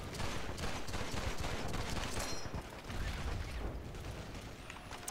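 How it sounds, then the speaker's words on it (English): Dense, rapid bursts of automatic gunfire from a Tommy gun in the World War II shooter Call of Duty 2: Big Red One, loud and continuous with a brief lull midway and no talking. "Let's get the Tommy gun, shall we?"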